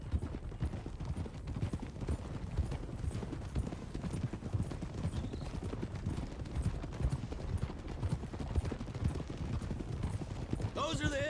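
Horse hooves clip-clopping in Red Dead Redemption 2, a steady rhythm of several horses riding together along a road, with voices talking over the hoofbeats and a brief whinny near the end.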